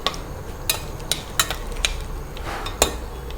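Sambar tempering of urad dal, mustard seeds and dried red chillies being stirred in a pan, heard as sharp, irregular spoon clinks against the metal over a soft, low background hiss.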